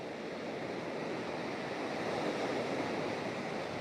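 Big surf breaks on the rocky shore of Callao Salvaje's Savage Cove, a steady loud wash and roar of water swelling slightly midway, with some wind noise and no talking.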